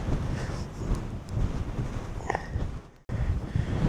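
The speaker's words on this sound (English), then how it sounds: "it's super weird because it's extremely windy, rainy, not necessarily cold" Strong wind and rain on open moorland buffeting the microphone in heavy gusts, a dense rumbling roar that briefly cuts out before surging back.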